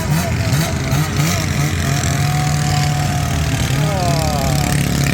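A single-cylinder two-stroke engine idles loudly and steadily nearby, a continuous throbbing putter with no pauses.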